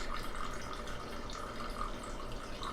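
A small indoor water fountain trickling, with a faint continuous splashing patter that stays soft and even throughout, no voices present.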